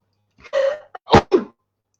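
A person sneezes several times in quick succession during a morning bout, close and loud, with a short burst followed by two sharper sneezes and no speech.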